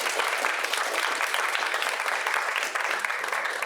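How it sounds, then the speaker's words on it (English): Audience members at a Warwick Students' Union annual meeting give a student another round of applause: sustained, even clapping from a crowd with no voices above it. "Can we do another round of applause, please?"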